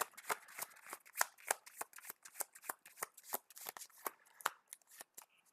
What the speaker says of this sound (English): Let's go ahead and shuffle all this in